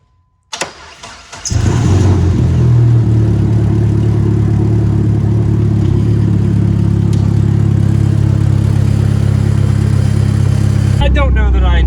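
A Dodge Neon SRT-4 with aftermarket mods and a big fuel pump cranks and fires up, then holds a loud, steady, rumbling idle close by before cutting off abruptly at the end.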